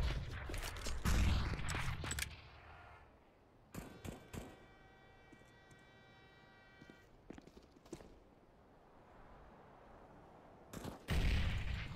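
Sharp bursts of Negev LMG fire in a CS:GO match on the Train map, with loud clustered shots at the start and end and scattered impacts and game noise between them.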